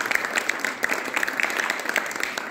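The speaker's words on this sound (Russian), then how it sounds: "Бурные аплодисменты." Audience at a Christmas carol event in Yekaterinburg gives a brisk round of applause, dense overlapping clapping from a moderate crowd held at an even level for a few seconds.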